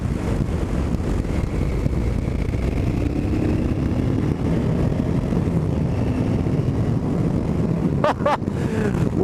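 A Honda Africa Twin RD07 motorcycle accelerates in a steady, continuous engine roar heavily mixed with wind buffeting on the microphone, loud and close throughout with no talking.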